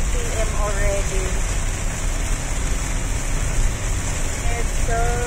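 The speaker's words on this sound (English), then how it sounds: "look at the weather, guys. It's so heavy rain." Heavy evening rain pours steadily, likely heard from inside a moving car, as a loud, dense, continuous wash of noise with faint tonal squeaks over it.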